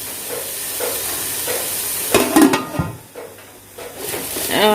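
Onions, shallots and garlic are sautéed in a pan for fish biryani, with a soft steady sizzle and hiss broken by a few louder clanks and scrapes of stirring against the pan, all close by.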